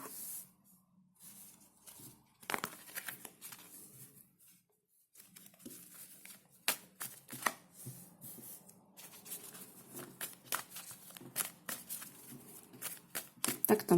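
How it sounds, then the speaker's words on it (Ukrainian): Tarot cards are gathered up and shuffled on a table, giving soft riffling, flicking and brushing sounds in irregular bursts with brief pauses, quiet and close. "Так, я згортаю і буду зараз робити на лівий берег на цих же картах."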